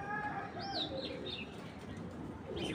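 Racing pigeons coo faintly in a loft among a few soft chirps, partly buried in a steady noisy background with possible murmuring voices.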